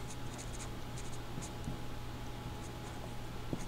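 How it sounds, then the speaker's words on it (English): Pen or marker strokes on a board come as faint, quick scratching and tapping bursts in short clusters over a quiet background hiss. "let's actually write this better"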